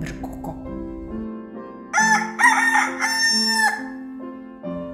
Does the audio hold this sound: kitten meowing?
no